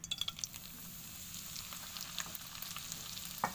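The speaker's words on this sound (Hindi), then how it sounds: "घी हमारा अच्छे से मेल्ट हो गया है। अब मैं इसमें सूजी शामिल करूँगी" Semolina sizzling softly as it roasts in melted ghee in a pan, a steady low frying hiss broken by light scraping and one sharp clink near the end, with no voices.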